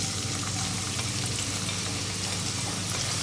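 Chopped medium onion sizzling in hot oil with cumin, a steady dense frying hiss that holds loud and even throughout with no talk.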